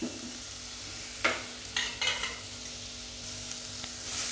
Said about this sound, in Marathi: आता हे मी असं थोडंसं लाईटली लाईटली कारलं भाजून घेते